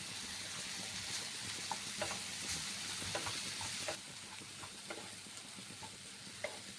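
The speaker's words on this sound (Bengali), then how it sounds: "পেঁয়াজ আর কাঁচা লঙ্কা আমার খুব ভালো করে ভাজা হয়ে গেছে" Chopped onion and green chilli fry in a pan with a steady, quiet sizzle, broken by a few soft clicks and stirring taps. No one speaks.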